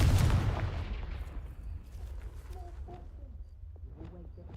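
A Confringo fire spell bursts in the video game Hogwarts Legacy, a loud booming blast at the start that rumbles and fades over a few seconds, with faint game sounds and chirps afterward.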